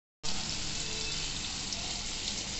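Onions and potatoes frying in a pan give a steady, bright sizzle that starts abruptly and holds at an even level, close and continuous with no voices.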